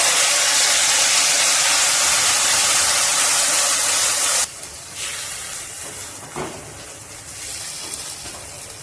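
Ground spice paste hits a hot pan for an ilish curry and sets off a loud, steady sizzle for about four seconds, then drops to a quieter crackle with light stirring.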